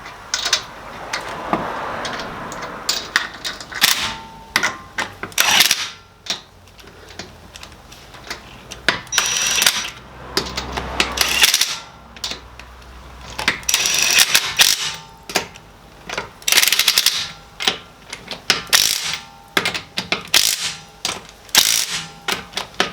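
An impact driver rattles in repeated loud, close bursts of hammering while tightening the nuts on a CV shaft of a 2005 Subaru Forester, with short gaps between each run of clattering impacts.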